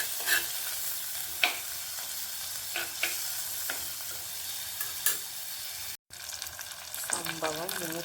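Curry leaves sizzle and crackle as they fry in hot oil for a Kerala-style fish head curry, with steady close frying hiss, occasional sharp pops and stirring clinks, a brief drop to silence, then louder bubbling.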